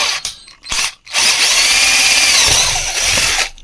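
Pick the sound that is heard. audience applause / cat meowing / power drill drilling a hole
power drill drilling a hole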